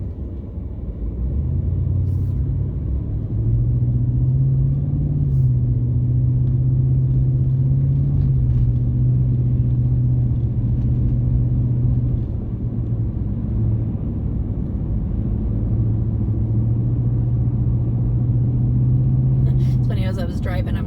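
A car drives along a highway with a steady low engine and road rumble inside the cabin, its pitch shifting slightly as speed changes, while the driver talks over it throughout.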